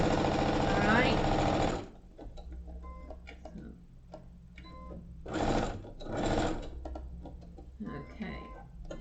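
A sewing machine sews a fell seam in short bursts of rapid, close mechanical stitching. A long run opens the clip, then two shorter runs follow, separated by quiet handling clicks and rustles.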